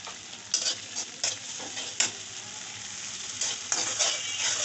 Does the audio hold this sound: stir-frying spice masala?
yes